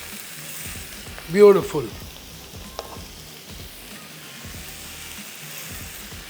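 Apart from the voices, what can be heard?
tangdi kebabs sizzling in butter in a pan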